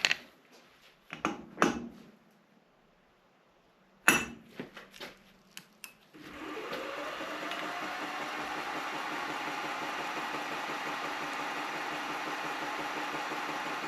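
An engine idles at 660 RPM, a steady low hum that starts after several loud metallic clanks and knocks and then holds evenly to the end.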